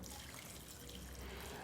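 Water is poured into a cold pan of vegetables (peas and garlic) as a steady, faint trickle. The pour runs continuously without a break and no voices are heard.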